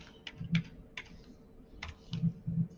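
Keys on a computer keyboard tapped in short, uneven bursts while an offset value is typed, close and moderately quiet with brief pauses between groups of keystrokes.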